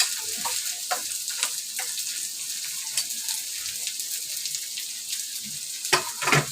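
Onion roasting in a pan for Malvani-style vangyache bharit makes a close, moderate crackling sizzle with scattered ticks and stirring scrapes, and no voices.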